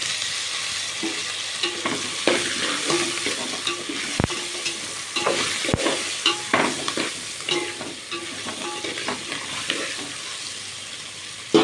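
Onions and bottle gourd pieces fry in hot oil with a steady sizzle, broken by repeated stirring scrapes and clacks, close and fairly loud, with no talking.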